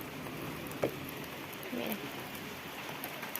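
Light rain falls steadily outdoors in the countryside beside a freshly lit campfire, a soft continuous patter with a couple of brief louder drips and a faint voice in the background.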